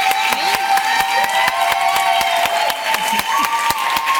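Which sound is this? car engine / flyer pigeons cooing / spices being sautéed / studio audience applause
studio audience applause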